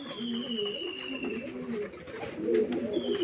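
Pigeons coo in repeated soft, throaty rolls close by, several birds overlapping in a steady murmur with a faint higher chirp now and then.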